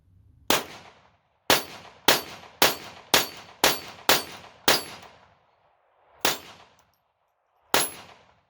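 A pistol slide is slingshotted back and released again and again, each time ending in a loud, crisp metallic clack, close and alone. The first seven come in a quick, even series, then two more follow after longer pauses.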